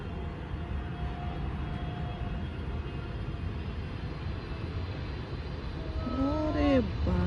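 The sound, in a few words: large airplane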